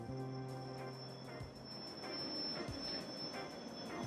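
A train running over a bridge across a river: a steady rumble of wheels and carriages with a whistle-like tone and periodic clacks, with no voices.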